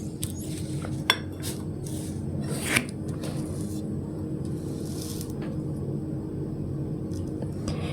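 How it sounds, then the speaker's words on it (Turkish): A porcelain coffee cup clinks and scrapes against its saucer as it is set aside during a Turkish coffee reading, a few light taps and clatters over a steady low room hum. "şimdi fincanını kenara bırakıyorum"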